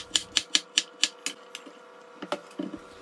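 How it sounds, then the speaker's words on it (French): A knife chops through carrots into small rounds on a cutting board, giving about six quick, evenly spaced knocks, then a few softer, scattered cuts, close by with no voices. "Je vais couper 3 carottes en petites rondelles."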